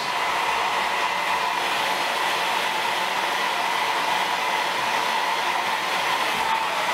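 A hair dryer blowing to dry a medium-length moustache while it is brushed, a loud, constant close whoosh that holds steady without pause for the whole stretch, with no talking over it.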